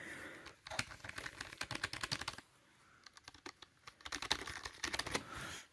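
Typing on a new gaming keyboard: quick bursts of crisp, close key clicks in two rapid runs separated by a brief pause, heard alone at low volume.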